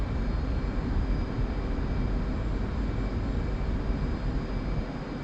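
An airplane engine roars steadily and continuously at takeoff power as the nose wheel lifts off, a dense, even drone with no speech over it.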